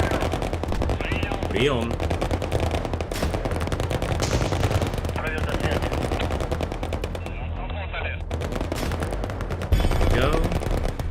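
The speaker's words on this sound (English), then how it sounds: "we're getting some pretty good shots on them" Rapid automatic gunfire rattles through a counterinsurgency wargame, dense bursts of shots running nearly nonstop, with a voice speaking briefly over it.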